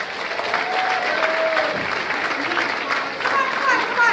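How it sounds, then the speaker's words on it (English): An audience at an awards event claps loudly and continuously to welcome a comedian onto the stage. The dense applause fills the whole stretch, with faint crowd noise beneath it. "Keep clapping. Come on, you guys."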